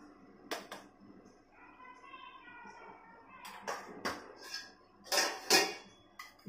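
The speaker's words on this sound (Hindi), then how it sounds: "इसे चला लेते हैं रेड चिली को अच्छे से" A utensil stirs red chili and roasted cumin in a pan, giving a handful of sharp metallic clinks and scrapes in a quiet kitchen, with a voice talking in between.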